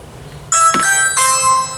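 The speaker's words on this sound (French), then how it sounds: "Ça sonne à l'intérieur le carillon." Indoors, a Ring Pro video doorbell chime rings out loudly in two bright, sustained tones, the second following about two-thirds of a second after the first, with a short clunk between them.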